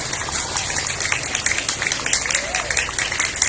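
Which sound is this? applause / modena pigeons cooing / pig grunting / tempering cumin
applause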